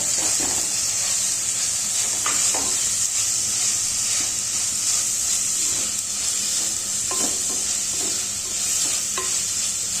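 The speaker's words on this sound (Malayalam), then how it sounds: "ഒരു 2 ചെറിയ സവാള അരിഞ്ഞതും ചേർത്ത് പച്ചമുളകും ചേർത്ത് വഴറ്റിക്കൊണ്ടിരിക്കുകയാണ് ഇവിടെ" Two small chopped onions and green chilies sautéing for a crab curry, a loud steady sizzle close up with repeated spatula stirring and scraping throughout.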